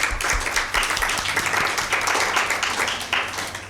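Studio audience at a Mother's Day Bible quiz show applauds a contestant's correct answer, with steady, dense clapping that holds at an even level for several seconds and thins slightly toward the end.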